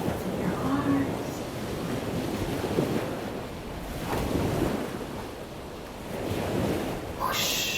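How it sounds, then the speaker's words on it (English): Ocean waves wash onto a beach in slow, swelling surges, loud and close, with heavy wind buffeting the microphone throughout. "Ooh, so excited to get in those waves."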